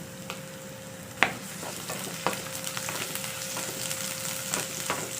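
Garlic fries in hot cooking oil in a pan, a steady close sizzle with scattered sharp pops and a few clinks of utensils, no talking.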